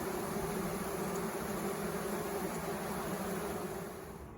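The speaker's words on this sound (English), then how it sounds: "it really is just incredible to look inside the hive and see the bees inside of it" Honeybees inside an open hive give off a steady, dense buzzing drone, heard close up and continuous, easing slightly at the very end.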